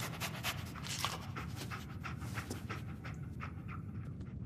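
Dogmeat, the German Shepherd companion in Fallout 4, pants steadily and close by in a rapid, rhythmic huff that runs through the whole stretch, with no talking over it.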